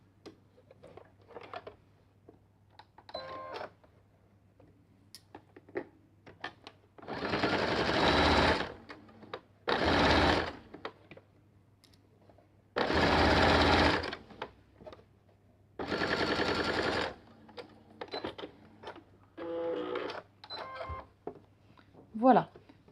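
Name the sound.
sewing machine topstitching a button placket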